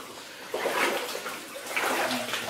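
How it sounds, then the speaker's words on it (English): Water trickles and splashes inside a flooded gold mine, a soft continuous wash with brief louder splashy bursts, faint and echoing, with no voices. "I hear dripping water up ahead."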